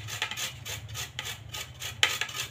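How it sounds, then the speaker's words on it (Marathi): Boiled potatoes being grated for a street-style veg frankie filling, heard as a run of soft, rhythmic rasping strokes close by, with one sharper scrape near the end and no talking. "उकडून ठेवलेले बटाटे किसून घेते मी."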